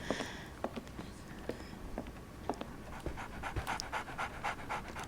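A dog pants steadily in the video game Sherlock Holmes: The Awakened, quick rhythmic breaths at a soft, fairly close level with faint ticking movement in the background.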